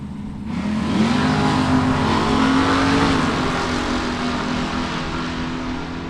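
A Mustang drag racing car at a drag strip roars loud and close with a strong sustained engine note that builds and holds steady across the run, a continuous wide-open rasp without any speech.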